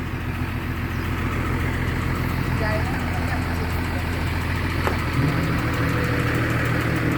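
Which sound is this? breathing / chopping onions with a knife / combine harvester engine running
combine harvester engine running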